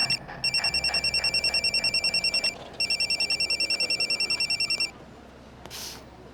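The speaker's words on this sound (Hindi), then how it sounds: "फोन।" A telephone rings in two long bursts of rapid electronic trilling, each lasting about two seconds with a short gap between, fairly close and clear over a quiet room with faint background noise.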